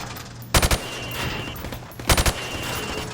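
Two rapid bursts of automatic gunfire from Call of Duty Modern Warfare, each a quick cluster of loud, sharp shots, separated by a stretch of quieter in-game ambience.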